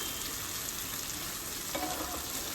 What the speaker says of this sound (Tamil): இது நல்லா ரோஸ்ட் பண்ணி எடுக்கணும் திருப்பி திருப்பி போட்டு